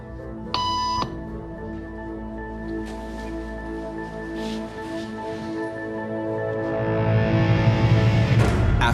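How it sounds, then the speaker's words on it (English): Electronic beep tones in a hidden camera conformity experiment, with one clear steady tone near the start over a quiet room, followed by soft ambient noise and a rising background hum. "After just 3 beeps"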